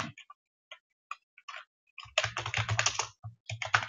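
Keys clatter on a computer keyboard as code is typed, starting with sparse isolated taps, then breaking into a dense, rapid burst of clicking with a few final strokes, close and fairly quiet.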